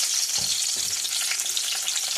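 Brinjals dropped into hot oil fry with a steady crackling hiss and a couple of low bumps as the pieces go in, close and continuous for a couple of seconds.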